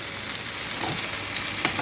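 Fish frying in oil in a pan over a medium flame, giving a steady, close crackling sizzle with small pops throughout.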